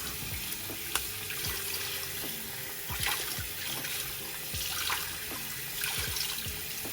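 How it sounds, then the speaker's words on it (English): Warm tap water runs steadily into a sink, a continuous splashing stream with occasional drips and clinks, fairly quiet. "So I am using warm water to do this"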